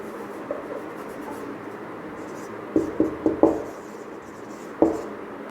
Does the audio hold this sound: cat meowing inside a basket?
no